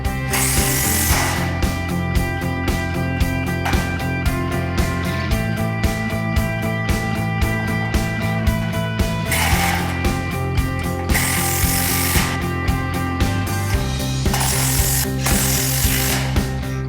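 A ratchet clicks rapidly and repeatedly while fasteners are tightened on steel shed truss webs, loud and close, in bursts of steady ratcheting broken by brief pauses.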